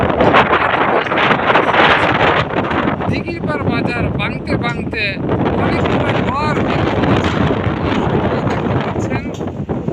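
Strong wind on the Padma River buffets the microphone in a steady, loud rush, with someone talking over it throughout.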